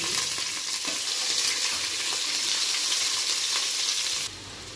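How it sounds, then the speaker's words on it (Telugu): Onions and green chilies fry in a pan, a loud, continuous sizzle with faint stirring scrapes, close up, before it drops off sharply near the end. "ఇప్పుడు ఆనియన్స్, పచ్చిమిర్చి వేసుకొని కాసేపు వేయించుకున్నాను."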